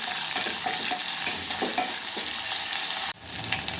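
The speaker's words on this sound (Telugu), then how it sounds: "సన్నగా తరగట్టిన ఉల్లిగడ్డలు, ఒక టమాటా పండు వేసేసుకుంటున్నాను. బాగా మగ్గాలండి." Thinly sliced onions and a tomato frying in a pan, a close, steady sizzle with soft stirring scrapes throughout, briefly dipping before the hiss resumes.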